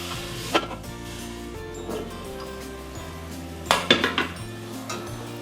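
Metal spoon scraping and clinking around a pot of veg biryani masala with tomatoes, with two bright clusters of clanks against the pot amid softer stirring and a faint sizzle.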